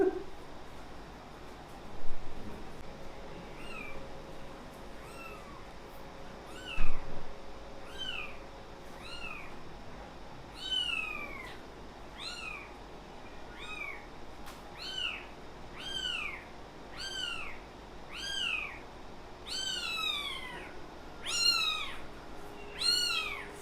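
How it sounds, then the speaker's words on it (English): A four-day-old kitten meows over and over in thin, high-pitched cries that come faster and more insistently toward the end, close by against quiet background noise. "This is one kitten."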